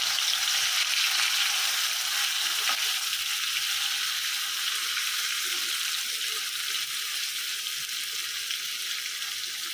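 Fish fries in a pan ahead of a tomato chutney, giving a loud, even, close sizzle that runs unbroken without any talk.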